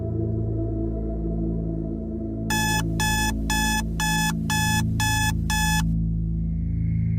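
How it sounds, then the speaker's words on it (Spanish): An alarm clock beeps in seven quick, evenly spaced pulses, sounding clearly over a steady low hum and then stopping. "Mi despertador sonó"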